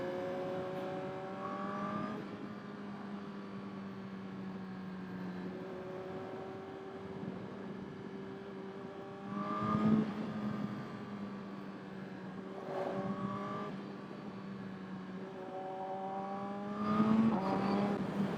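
A 2022 Suzuki GSX-R 1000R motorcycle engine pulls hard from the low end, its rising harmonic whine climbing through the gears in repeated surges, close and loud with brief shift dips between runs.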